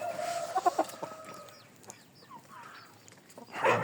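Rooster and chicks cluck nearby in a short burst of clucks and chirps, followed by softer scattered peeps and a louder cluck at the end.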